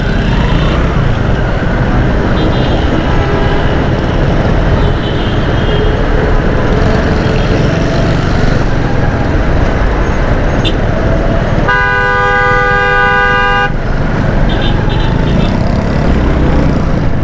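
Dense, steady traffic on a busy Karachi road heard from a motorbike, with a constant roar of engines and a long, loud horn blast partway through among other scattered toots.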